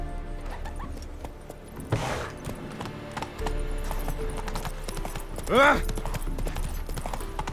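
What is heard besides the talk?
horse hooves clip-clopping in Witcher 3 video game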